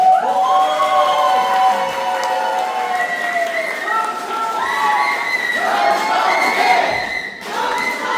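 Party members at a Korean Democratic Party meet-and-greet cheer, shout and clap to welcome candidate Jung Chung-rae, a loud, lively crowd roar with high voices rising and falling over several seconds.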